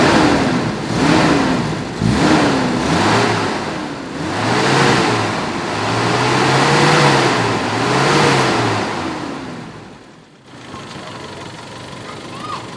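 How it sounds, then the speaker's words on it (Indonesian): A car engine is revved repeatedly, with rising and falling surges in a loud, close rhythm before it drops back to a lower idle near the end. "Ini mesinnya digas."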